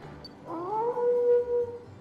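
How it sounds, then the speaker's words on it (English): A Pokémon howls in a video game, a single drawn-out wavering howl rising and holding steady for over a second, fairly close and clear over quiet game background. "Is he howling?"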